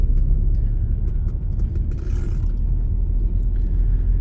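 A car driving in the left lane on a driving-exam route: a loud, continuous low road rumble and engine drone heard from inside the cabin, with a few faint scrapes and clicks and no speech.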